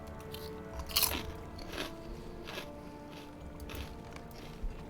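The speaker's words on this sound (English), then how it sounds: "My current snack for the evening is Double Crunch Ruffles Hot Wing flavored potato chips" Double Crunch Ruffles Hot Wing potato chips being eaten, with several sharp crunchy bites and softer chewing in between, close and fairly quiet, no talking.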